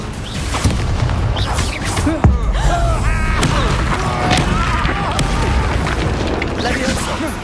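Confringo fire spell detonating in Hogwarts Legacy, a single loud booming blast with a sharp crack near the middle, set among other spell whooshes and game effects over a continuous busy backdrop.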